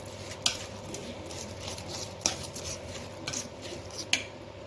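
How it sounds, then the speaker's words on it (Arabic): Rice being stirred with onion, spices, tomatoes and herbs in a wide bowl, soft scraping and rubbing with several sharp utensil clinks against the bowl, faint and close, with no voice. "نقلب بقى الخضره كده مع البصل مع الرز كده والطماطم"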